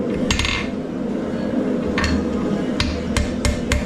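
Sharp metallic blows from a 4-pound ball-peen hammer ring out on hot steel while forging a fireplace brush, scattered at first and then in a quicker series of clanks against a steady background hum.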